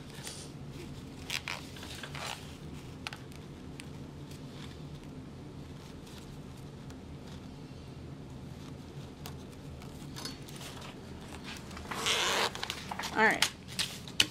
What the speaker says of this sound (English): I still have to reattach my zipper pull.